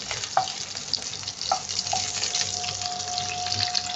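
Green chili and garlic sizzling in a hot pan, a close continuous frying crackle with a few sharp utensil clinks and a faint ringing tone, with no voices.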